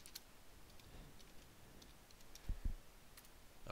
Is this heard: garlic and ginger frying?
no